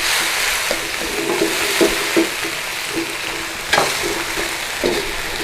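Peking sauce and red chilies stir-fry in a hot wok, giving a loud continuous sizzle broken by scattered scrapes and knocks as the ladle stirs them.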